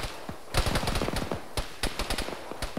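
Rapid machine gun bursts in a first-person military game, fairly distant and quieter, with staccato rounds clustered in several quick volleys.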